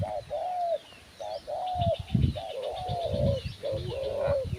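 Repeated soft cooing phrases from a nearby spotted dove, several calls in a row with brief pauses, faint chirps in the background.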